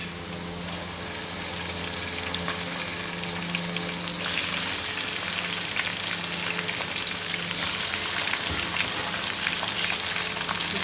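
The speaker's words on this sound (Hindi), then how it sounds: "इसको हम 10 मिनट गोश्त को भूनेंगे।" Beef frying in a pot with partly cooked onions for nehari, a steady dense sizzle and crackle that runs continuously and grows brighter and louder partway through, with no talking.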